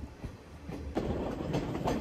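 Slow passenger train in Sri Lanka rumbling along, a noisy wheel-and-carriage clatter heard from inside that swells louder partway through, with rhythmic clacks and no talking.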